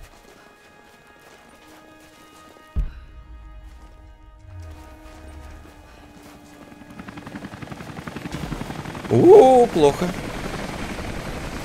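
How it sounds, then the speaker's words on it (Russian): A helicopter's rotor chops faintly in the distance and grows louder in the video game Rise of the Tomb Raider, with a sudden thud early on and a man briefly exclaiming. "Вертолеты всякие летают."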